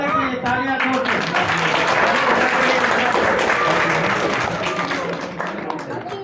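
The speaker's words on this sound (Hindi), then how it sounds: "ताली में कंजूसी नहीं होना चाहिए, तालियां जोर से।" Loud, sustained applause from a large audience, dense clapping that swells and holds for several seconds before easing slightly toward the end, with no voice heard over it.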